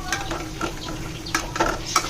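Fish roe frying in oil in a pan, a steady sizzle broken by repeated stirring scrapes and clinks, close and fairly loud, with no one talking.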